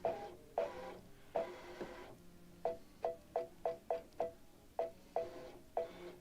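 A home sewing machine stitches in short bursts, at first in a few longer runs, then in a quick series of separate clattering stitch pulses, close and moderately loud with no talking.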